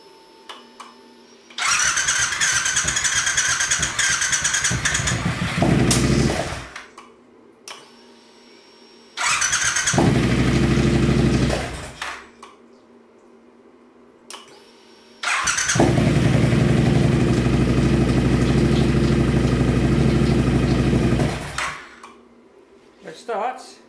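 Triumph Bobber motorcycle engine with a swapped high-power motor and replaced gearbox gear position sensor, cranking and firing up three times, each start running loudly for a few seconds of rough idle before cutting off, with quiet gaps between.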